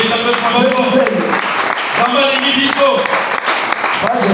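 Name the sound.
congregation applauding the Lord in church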